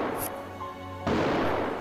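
Winchester rifle fired in a sudden loud blast partway through, a broadband crack that jumps in level and then holds as a dense, booming roar to the end, following a quieter stretch with a brief high hiss near the start.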